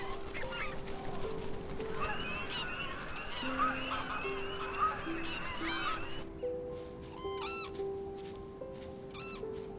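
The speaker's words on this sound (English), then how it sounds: "There are also water birds like wild geese and ducks." Wild geese and ducks at wintering grounds on the Tibet Plateau honk repeatedly in an overlapping flock chorus, with sustained nasal calls and brief sharp squawks, moderately distant and fairly faint.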